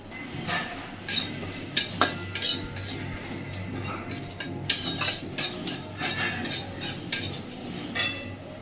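A metal spatula scrapes and clinks against a dry wok while a whole dried red chili and cumin seeds are roasted without oil, giving a series of sharp, irregular metallic taps and scrapes up close, with no talk.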